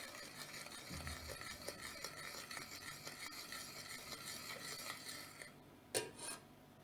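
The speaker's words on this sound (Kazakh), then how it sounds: "Енді араластырамыз." A spoon stirs melted sugar, honey and baking soda in a pan for honey cake, producing a soft continuous scraping and faint sizzle, close and quiet, ending with a couple of clinks.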